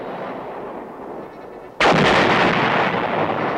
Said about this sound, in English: 8-inch self-propelled howitzers and 155mm howitzers are an organic part of the division.